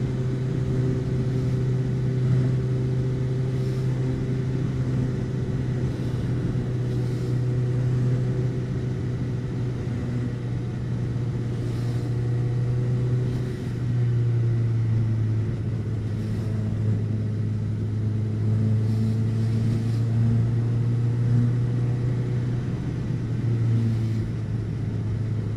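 Car engines in rush hour morning traffic, a steady low rumble of idling and slowly moving vehicles that carries on throughout, fairly near and even in loudness, with no talking.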